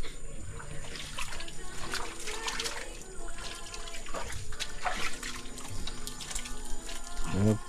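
Water runs into a kitchen sink at a house, a steady trickle and splash with some clatter and background talk.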